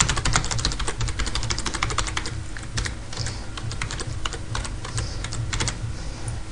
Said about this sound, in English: Basically you have to type the alphabet as quickly as you can